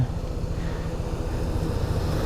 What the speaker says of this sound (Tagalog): sabayan pa ng hangin na sinasalubong natin